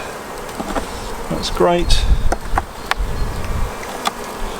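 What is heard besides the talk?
honey bees buzzing in an opened beehive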